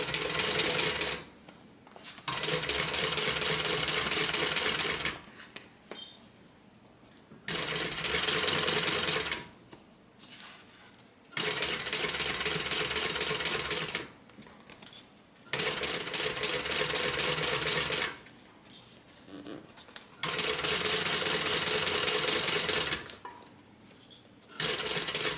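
A home sewing machine stitches a tote bag in several long runs separated by short pauses, its steady whirring motor loud and close with no talking.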